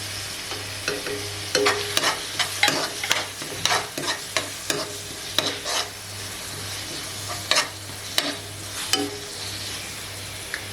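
Banana flower pickle with crushed mustard and fenugreek stirred in hot oil, a continuous sizzle broken by regular scraping spoon strokes against the pan, with a low steady hum beneath.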